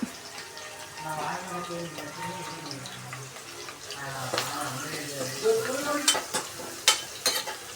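Ginger, garlic, green chilli and curry leaves sauté in a pan with a soft, steady sizzle and the scrape and clatter of a spoon stirring, a voice talking over it and sharper clinks toward the end.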